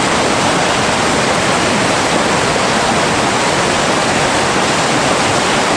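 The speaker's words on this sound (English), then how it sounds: "And this waterfall, did you guys see how big this waterfall? It was almost like a waterfall rapids." Large waterfall rapids in the Kyrgyzstan mountains roar close and loud, a steady unbroken rush of water with no voices.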